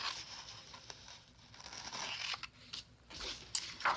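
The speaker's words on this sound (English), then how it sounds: "I'm going to cut a long red" Scissors cut a long red rectangle from red paper during a Mondrian-style art project, giving soft, close crinkling snips and rustles in an otherwise quiet room.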